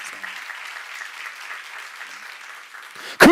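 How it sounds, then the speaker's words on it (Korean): Audience at a church seminar claps in a steady, moderate round of applause that holds evenly, then a sudden loud burst cuts in at the very end. "박수."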